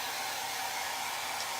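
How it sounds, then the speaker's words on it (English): A hair dryer blows steadily on fresh paint on a chalkboard sign, a close, continuous airy whoosh that holds level throughout with no voices. "So I'm gonna go ahead and just dry this with my hair dryer"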